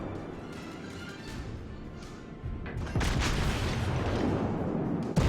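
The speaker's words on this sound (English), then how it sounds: "Turn and start shooting at a battleship." Warship guns in a naval video game fire at a battleship as scattered booms and cracks, building to a louder, denser barrage of blasts partway through over a low rumbling background.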